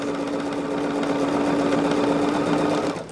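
Sewing machine running steadily as it stitches quilt charm squares together, a continuous close mechanical whir with a constant hum that stops abruptly near the end.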